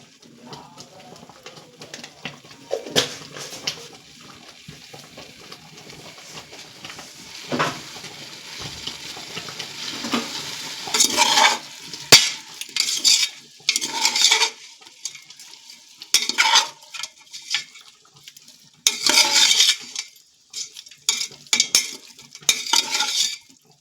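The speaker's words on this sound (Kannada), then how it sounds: "ಗ್ರೀನ್ ಪೀಸ್ ಬಟಾಣಿಯನ್ನು ಹಾಕ್ತಿದ್ದೀವಿ, ಸೇರಿಸಿ ಫ್ರೈ ಮಾಡ್ತೀವಿ" Green peas being stirred and dry-fried in a pan, with scraping spoon strokes and bursts of sizzling that come in irregular clusters, louder and busier toward the middle and end, close by and without talk.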